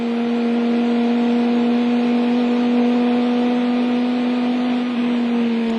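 A Chrysler Viper race car on a circuit, its engine holding a loud, steady, tonal drone with a strong sustained pitch and little variation, no voices.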